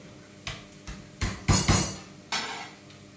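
Several sharp thuds and knocks as garlic cloves are crushed with the flat of a knife on a kitchen board, a few scattered impacts building to two loud, close blows and a final softer one.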